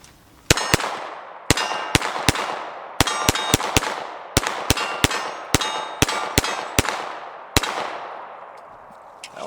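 A Glock 45 Gen5 9mm double-stack pistol fires a string of about seventeen sharp, loud shots at an irregular quick pace, each with a ringing decay, outdoors with no talk.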